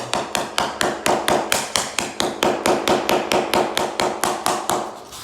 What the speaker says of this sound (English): these are pretty tough, so you can hit them with a hammer.